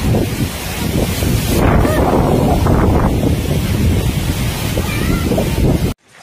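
Strong typhoon wind roars across the microphone at an outpost, a loud, ragged, continuous buffeting with gusting surges, then cutting off abruptly near the end.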